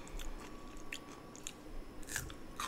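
Crisp bites and chewing of a crunchy raw Japanese cucumber, several sharp crunches spaced irregularly and heard up close, with no talking over them.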